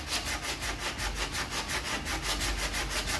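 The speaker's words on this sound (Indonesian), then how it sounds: "Amplasnya itu usahakan di atas keramik atau di atas kaca lah ya." Sandpaper rubs back and forth on a flat ceramic or glass surface in a steady rhythmic scraping, close and moderately loud.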